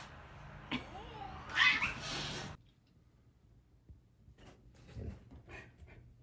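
House cat meowing and yowling in a home with a dog, one loud drawn-out caterwaul near the start, then quieter scuffles and faint sounds.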